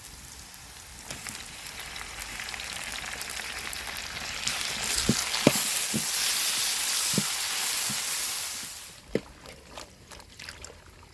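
Steady hissing sizzle of onions and tomatoes frying in a hot pan, with a few sharp metallic clinks of stirring; it eases off near the end.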